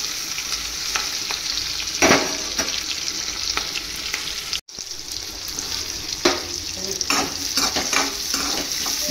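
Fish curry pieces frying in a covered pan, a steady close sizzle with intermittent scraping and stirring clicks throughout, briefly cut off once in the middle, no voices.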